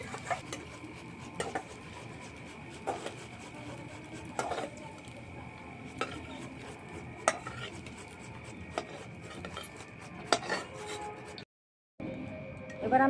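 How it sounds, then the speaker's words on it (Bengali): Fried coconut scooped out of a cooking pan, faint scraping and scattered metallic clinks of a utensil against the pan at irregular intervals, quiet and close with no talk. "নারকেলটা ভাজা হয়ে গেছে, এবার আমি তুলে নিচ্ছি।"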